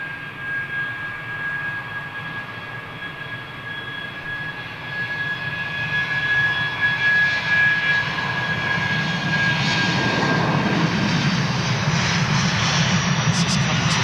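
Airliner approaching to fly overhead near Heathrow Airport, a steady jet engine roar with a faint whine that swells gradually louder and fuller as it nears.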